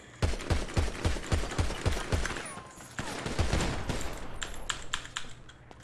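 Rapid bursts of gunfire in a video game roleplay, a quick run of close, loud shots in the first half, followed by scattered sharper cracks and clatter.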